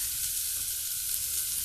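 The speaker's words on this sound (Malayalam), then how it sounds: "ആ ചട്ടിയിൽ ഉള്ളി ഫ്രൈ ചെയ്തെടുക്കാം" Onions frying in a pan for an egg biriyani: a steady, bright, continuous sizzle at moderate volume, with no talk.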